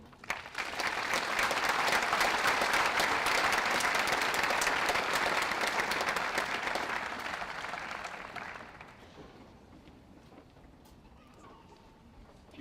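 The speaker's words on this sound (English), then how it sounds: "You can keep applauding if you want." Audience applause at a 2013 law school hooding ceremony welcomes the senior class speaker, a long dense round of clapping that holds steady for about eight seconds, then fades to scattered claps and room noise.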